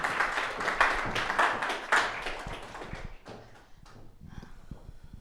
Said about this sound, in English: Let's welcome with your applause Tatyana Doktorova.